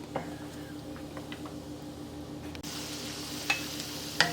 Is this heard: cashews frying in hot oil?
yes